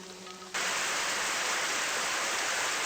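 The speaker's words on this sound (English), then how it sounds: "Sprinklers." Indoor sprinklers in the video game Super Danganronpa Another 2 suddenly burst on and spray water, a loud steady hiss that cuts in after a brief quiet moment with a faint tone and keeps rushing evenly to the end.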